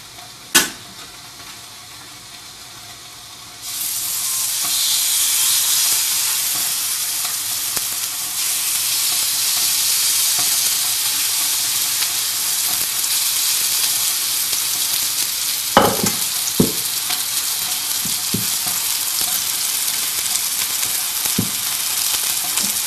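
Beef searing in a hot pan for beef and broccoli: a sharp tap, then a loud hiss erupts as the meat hits the pan and holds as a strong steady sizzle, with a few utensil clicks and scrapes near the end.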